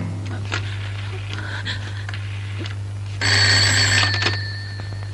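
A classic telephone bell rings indoors in a 1975 Iranian film: faint rings at first, then one loud, close ring burst near the end over a steady low hum.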